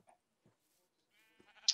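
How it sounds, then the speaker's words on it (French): Sheep bleating in a video game, a short bleat near the end after a few faint scattered sounds, fairly quiet and with no talking. "Là, il y a encore des moutons. Il n'y a que des moutons."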